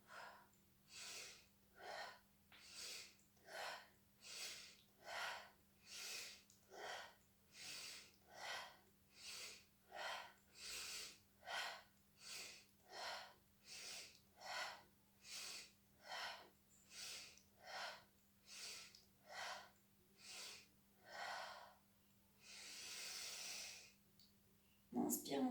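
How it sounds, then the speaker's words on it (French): Deep, audible breaths go in and out during a stretching exercise, a long, steady series of soft, close breaths repeating at a regular rhythm. "On inspire, on tire. Et on expire, on relâche."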